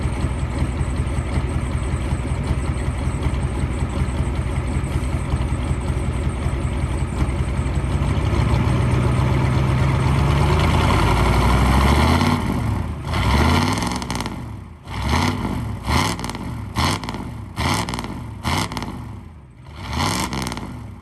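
A Ford OBS 7.3 Powerstroke diesel idles loud and steady, then is revved up repeatedly in a series of sharp throttle blips that rise and fall, recorded up close.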